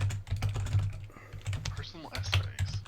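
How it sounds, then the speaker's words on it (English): Rapid typing on a computer keyboard, dense clattering keystrokes close by, with brief pauses and a faint voice or two murmuring underneath. "So much typing."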